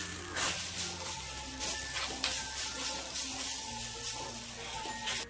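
Vegetable poha being stirred in a pan over a gas flame, with soft sizzling and a spoon scraping through the flattened rice at close range, no voices.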